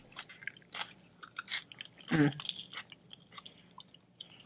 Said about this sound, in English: The crunch of the celery.